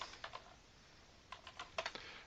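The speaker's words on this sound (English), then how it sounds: "Just typing here." Typing on a computer keyboard during a live stream, faint scattered keystroke clicks in short bursts at the start and again toward the end, with quiet pauses between.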